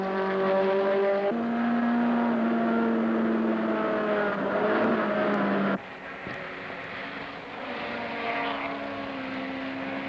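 A Datsun 510 BRE race car engine rasps loudly as it laps the track, revving high through the gears with sharp shift breaks, one steady drone falling away and then building again.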